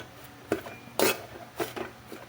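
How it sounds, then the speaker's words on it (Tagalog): Metal utensil stirring dried anchovies (dilis) in a dry pan with no oil, with a few separate scraping clinks spaced about half a second apart, close and moderately loud. "Haluin lang natin mga lods"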